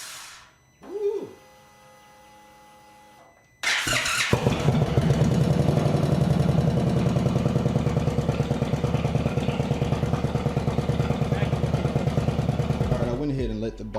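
An Indian Chief motorcycle engine catches after a short crank and settles into a loud, steady, throbbing run close by, then cuts off abruptly near the end.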